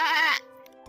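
A person's voice in VRChat gives a short, wavering bleat in imitation of a sheep, then trails off into quiet.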